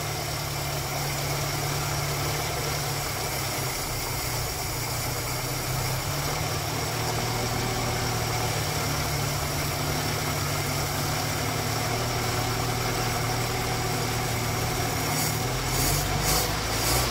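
A 1968 Datsun 1000 engine idles steadily while drawing fuel from a plastic drink bottle, a continuous close mechanical rumble with even vibration throughout and no talking.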